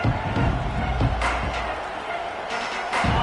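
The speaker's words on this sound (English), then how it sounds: "This crowd ready to make its presence known." Stadium crowd at an LSU versus Tennessee football game, a steady loud roar of cheering with scattered thuds and surges throughout.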